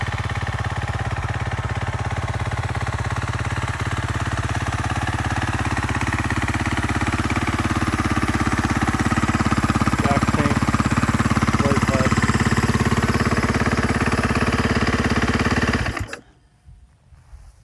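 A 2013 KTM 350 EXC-F dirt bike idles steadily close by, its single-cylinder engine a continuous, even drone with a few faint clicks partway through, then cutting off abruptly near the end and leaving near silence.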